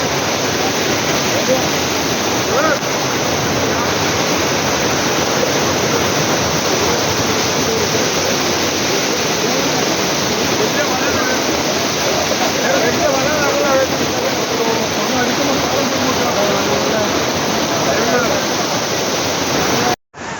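Swollen river floodwater rushes past after a landslide in Wayanad, Kerala: a loud, steady, close roar of churning water that fills the whole stretch without pause, then cuts off abruptly at the end.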